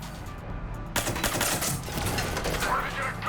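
Rapid gunfire from the Mass Effect video game, set in the Citadel, bursts in after a short quiet start and keeps going as a dense, continuous rattle of shots with some faint background voices.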